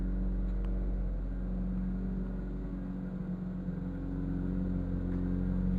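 A BEAMS-engined Toyota MR2 idling just after startup, a steady low engine hum with an even, smooth rumble heard up close and holding constant for several seconds.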